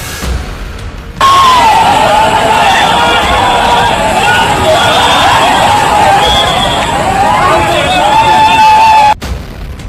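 Floodwater at the Kosi barrage in Nepal roars loudly and continuously for about eight seconds, with a broad steady rushing that starts and stops abruptly.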